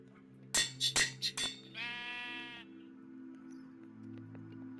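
Several short sheep bleats from Minecraft, loud and close, come in quick succession, followed by a longer buzzy wavering bleat before a steady background tone continues.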